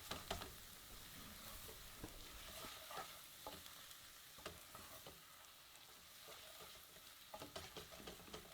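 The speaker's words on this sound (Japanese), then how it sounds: "スプーン1杯分の小麦粉をふるって、よく小麦粉に火を入れていきます" Onions with a spoonful of flour sautéing in a pan for French onion soup: a continuous soft sizzle with frequent scraping stirs and light clicks of a spoon, quiet and close.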